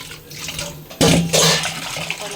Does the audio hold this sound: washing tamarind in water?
yes